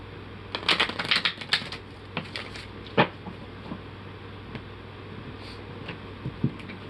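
Tarot deck being split and shuffled, a brisk flurry of soft card riffles and taps up close, then a few scattered clicks and a sharper snap.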